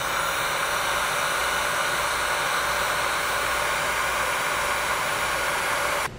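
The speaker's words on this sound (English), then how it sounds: "I'll come back in with a heat gun and seal up the ends" A heat gun blows a steady, loud, unbroken hiss of hot air onto the ends of a crimped wire butt connector, sealing them during a vehicle wiring harness installation, continuous for several seconds before cutting off abruptly.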